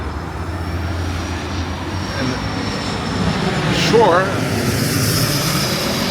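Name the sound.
jet airplane near Westchester County Airport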